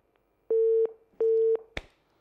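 Telephone line tone heard after a caller hangs up during a live call-in TV show: two loud, steady beeps of equal length with a short gap between them, followed by a sharp click.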